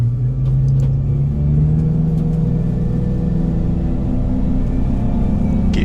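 A Suzuki outboard motor with a lift runs on an Arronet 26 Surprise boat, giving a loud, steady engine drone with a low rumble that holds throughout, with no voices.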